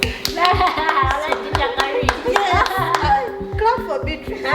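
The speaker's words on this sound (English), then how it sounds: "you deserve a hand clap" A talk-show audience claps in a quick, uneven run of loud hand claps, with voices and cheering over the applause.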